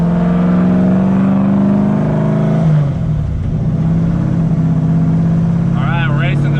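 A Cadillac CTS-V wagon with an automatic transmission accelerates hard in a street race. A loud, close engine roar climbs, drops in pitch at a gear shift, then pulls steadily again.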